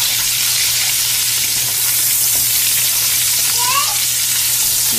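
Red and yellow tomatoes sizzle loudly and steadily in a hot pan, a dense, even frying hiss heard close up with no talking.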